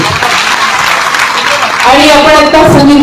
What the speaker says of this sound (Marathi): श्याम लोंढे यांच्यासाठी सुद्धा जोरदार टाळ्या झाल्या पाहिजे